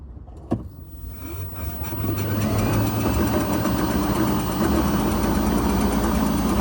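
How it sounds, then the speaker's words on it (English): An electric golf cart with a Curtis motor controller runs at wide open throttle, giving a steady, fairly loud motor whine and drive hum that holds through the clip after a brief knock near the start. "He got it wide open the whole time."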